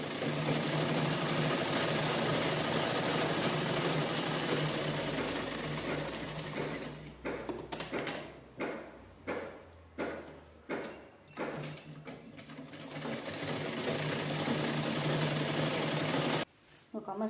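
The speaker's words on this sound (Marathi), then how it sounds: "चला हा पण पटपट स्टिच करून घेऊया आपण लगेचच." A sewing machine stitches a cloth bag in several short, rapid bursts close by, with pauses between runs and people talking before and after the stitching.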